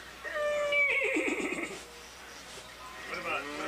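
A voice imitates a horse whinny, a high wavering neigh that falls into a shuddering nicker, followed by a second shorter whinny, loud and close in a talk setting.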